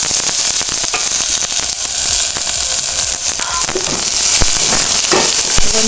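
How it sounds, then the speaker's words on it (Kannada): Chopped drumstick leaves hit a hot tempering for nuggesoppu sambar and set off a loud, steady sizzle with dense crackling and occasional stirring scrapes, close by and without talk. "ಈಗ ಈ ಒಗ್ಗರಣೆಗೆ ಹೆಚ್ಚಿರೋಂಥ ನುಗ್ಗೆ ಸೊಪ್ಪನ್ನು ಹಾಕಬೇಕು."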